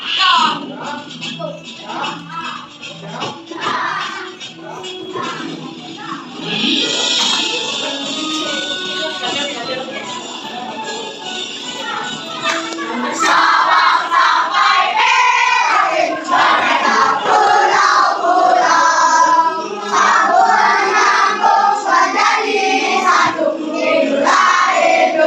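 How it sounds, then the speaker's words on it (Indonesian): A classroom of schoolchildren sings the Indonesian song Dari Sabang sampai Merauke together, their many voices loud and close, swelling fuller in the second half with some shuffling and talk mixed in. "Kalian pernah mendengar lagu dari Sabang sampai Merauke? Kita nyanyi sama-sama ya."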